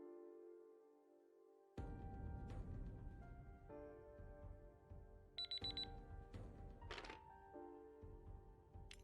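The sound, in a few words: timer alarm going off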